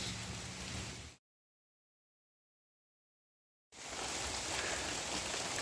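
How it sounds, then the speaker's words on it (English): Steady rain falling along a rough woodland trail, a dense even hiss that drops out completely for a couple of seconds mid-way before returning just as strong. "Well, it's raining again."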